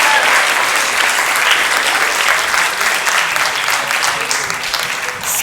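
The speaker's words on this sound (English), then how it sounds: "Let's give another round of applause to the candidates for Thunder Bay Rainy River." A sustained round of audience applause for the candidates at a Thunder Bay–Rainy River federal election forum, dense and close, holding steady before thinning slightly toward the end.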